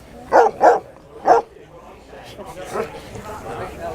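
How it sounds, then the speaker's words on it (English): A dog barks three times in quick succession, fairly close, followed by quieter muffled sounds and low background noise. "I think I can hear a dog"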